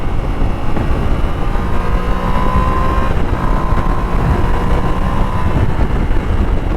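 A Yamaha Tenere 700 motorcycle rides on a hot day in Massachusetts, its engine a loud, steady close-up drone mixed with heavy wind rush and no talking.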